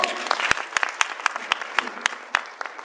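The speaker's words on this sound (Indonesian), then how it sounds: "hasil produk Elkan, beri tepukan." Audience applause at a product presentation, with a run of distinct, evenly spaced claps over a steady wash of clapping from a moderate-sized crowd.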